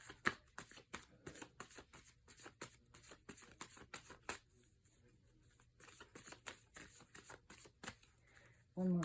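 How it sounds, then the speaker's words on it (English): Tarot cards being shuffled by hand, a soft close rapid riffling and patting in repeated bursts, fairly quiet with brief pauses between. "Let me shuffle these."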